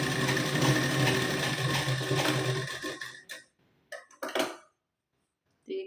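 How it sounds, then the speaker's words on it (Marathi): A sewing machine stitches a blouse seam in a steady, close mechanical whir for about three seconds, then stops, followed by a few sharp handling clicks and taps. "आणि इथे शिलाई देऊन घ्यायची."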